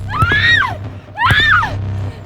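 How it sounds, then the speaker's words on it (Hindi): A girl screams twice in an animated horror story, each cry a loud, rising-and-falling shriek lasting about a second, separated by a short pause over a low background hum. "वो लड़की चीखने लगी।"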